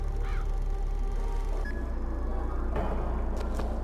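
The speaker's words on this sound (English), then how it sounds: "And all the birds flying around don't really help." Crows caw a few times over a dark, droning ambience in BioShock Infinite, the calls short and moderately distant above a steady low hum.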